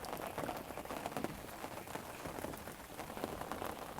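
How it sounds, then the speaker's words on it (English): Steady rain falls outside, a dense continuous patter of drops on surfaces, soft and fairly distant, with no talk over it. "Can you really hear the rain, Kevin?"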